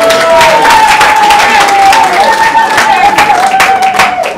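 A loud crowd at a political rally for the UDPS party in Congo claps and cheers, with a sustained tonal voice or chant running over the dense, roaring applause throughout.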